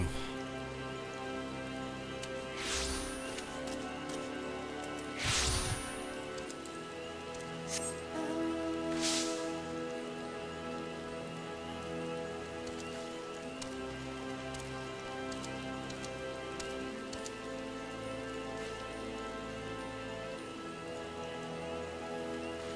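Steady rain falling outside, a soft continuous patter on surfaces with a few louder splashes or knocks, heard faintly and alone without talk.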